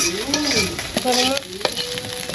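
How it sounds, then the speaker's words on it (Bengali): Fish fries in a pan in a village kitchen, a strong steady sizzle with crackling bursts, with faint tonal background sounds drifting over the frying noise. "আমার মাছটি ভাজা হয়ে গেছে গা, নামিয়ে নেব।"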